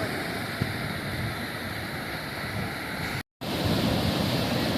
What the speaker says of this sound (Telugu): అలలు చూడండి ఎంత స్పీడ్గా వస్తున్నాయి